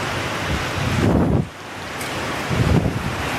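Moderate rain at the outer edge of Typhoon Haiyan falls as a steady broadband hiss, close and constant, swelling with two brief gusty surges of wind rumble.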